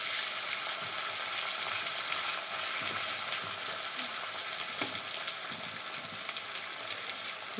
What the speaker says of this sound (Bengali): এবার এটাকে লালচে করে ভাজতে হবে